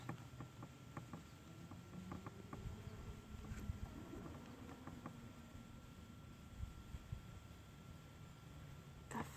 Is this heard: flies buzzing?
yes